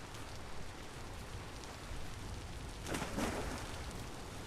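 Rain falls steadily in the video game Vintage Story, a dense hiss of drops on surfaces that continues evenly throughout and swells slightly toward the end, with no talking.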